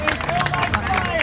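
Audience clapping and cheering at an outdoor riverside fire show, a dense spread of claps mixed with crowd babble, moderately close and steady throughout.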